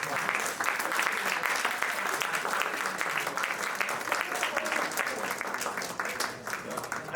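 Round of applause from a small audience at a capstone project showcase held in a law office, brisk clapping sustained across the stretch at moderate level, easing slightly near the end.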